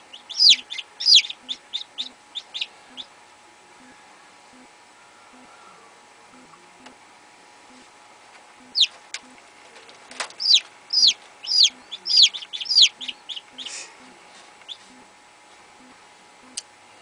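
A chicken gives rapid, high-pitched clucking chirps in two separate bursts, a lively cluster at the start and a longer run midway, fairly loud and close with quiet gaps and no talking.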